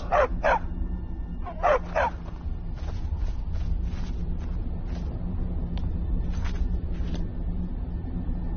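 A dog in the video game Skyrim VR barks in short yips and bow-wows, a few quick clustered barks followed by softer scattered ones over low background game ambience.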